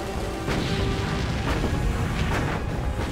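WWII naval gunfire as the USS Laffey's main battery and defending gunners duel an oncoming Japanese Judy kamikaze: a loud, dense roar punctuated by several heavy blasts at irregular intervals.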